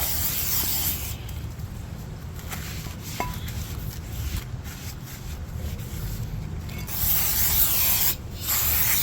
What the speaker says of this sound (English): we just gotta clean the rotor with brake cleaner before we go ahead and install it